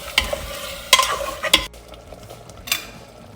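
Goat meat curry with paste stirred in a frying pan: several sharp scrapes and knocks of a utensil against the pan over a continuous sizzle, then quieter frying with one softer scrape.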